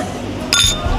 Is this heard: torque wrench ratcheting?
no